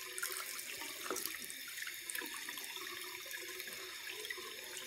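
Tap water runs steadily into a sink, a continuous splashing hiss with small irregular drips and bursts, fairly close and alone without voices.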